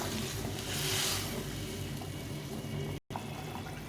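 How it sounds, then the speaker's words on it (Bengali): Boiled water poured into a simmering fish curry in a pot, a steady close splashing pour that runs continuously with a brief cut near the end. "জল ফুটিয়ে রেখেছিলাম, জলটা দিয়ে দেবো।"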